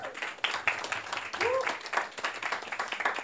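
Audience clapping at a music publishing panel discussion, a fairly quiet round of applause mixed with a few voices and chatter, continuous throughout.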